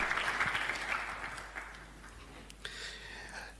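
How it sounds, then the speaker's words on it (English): A live audience at a state bill assent ceremony in Kenya claps to welcome a speaker, faint and somewhat distant, dense at first and then thinning and fading toward the end. "Kindly, let's welcome him with a clap."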